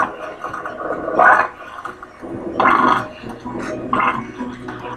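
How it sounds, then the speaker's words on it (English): A coffee percolator bubbles and gurgles in irregular wet bursts, about four louder surges with softer burbling between, close up and with no talking over it. "let's listen to the coffee percolator as we wrap up here"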